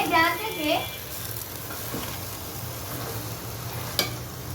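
Malabar spinach going into dal frying in a pan, a steady sizzle with a few soft stirring scrapes and a sharp knock near the end, with faint talk at the start.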